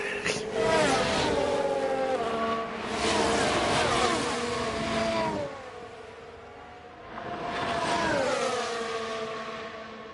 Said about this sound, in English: Oh, that engine doesn't sound good.